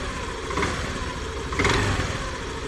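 Honda Activa 125 scooter running on Castrol fully synthetic 10W-40 oil, a steady mid-pitched engine hum with two brief revs rising over the idle, close by, with no talking.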